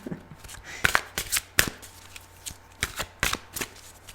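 Tarot cards being shuffled in quick riffling bursts, close and fairly loud, with short gaps between flurries and no talking.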